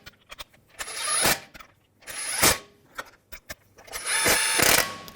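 Wheel lug bolts on a 2007-2013 BMW 328i being snugged down with a ratcheting tool: three separate bursts of rapid ratchet clicking, each rising to a louder whir, separated by short quiet gaps and small clicks.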